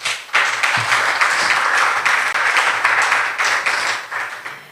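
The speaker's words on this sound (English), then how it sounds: "I think that deserves a round of applause" A crowd breaks into sustained applause, dense clapping swelling and rolling on for several seconds before starting to thin out.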